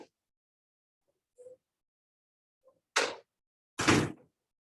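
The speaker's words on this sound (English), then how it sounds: "I need to open my door." An indoor door opens with a soft click near 1.4 s, a faint rattle near 2.7 s, then two broadband thunks or slides around 3 s and 4 s, heard alone in a quiet room.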